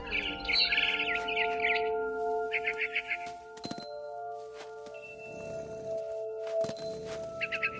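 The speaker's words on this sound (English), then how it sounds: "Then I heard chirping outside my window. It was a barn swallow going back to her nest." A barn swallow in the video game What Remains of Edith Finch, giving bright bursts of rapid chirping twitters in several bouts, mixed with sustained ringing game tones and occasional clinks.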